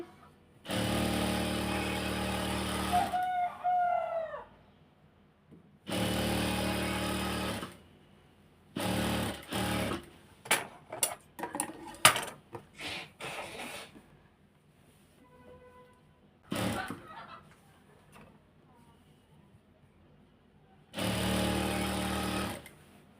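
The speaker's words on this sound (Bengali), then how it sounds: "এখন সেলাই করতেছি" A sewing machine stitching a hijab hums in several steady bursts of a few seconds each, separated by quiet pauses with clicks and handling noises, and a short voice comes in early on.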